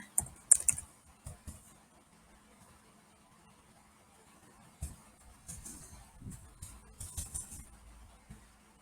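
A computer keyboard gives off short, faint bursts of clicky typing, with brief clusters of keystrokes separated by quiet pauses.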